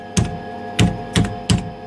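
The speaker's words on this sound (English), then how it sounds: "The keyboard is a bit fluffy, so it retypes all the time" Keys on an old 6502-based 8-bit computer keyboard are pressed in four distinct close, loud clacks, evenly spaced over a steady electronic hum.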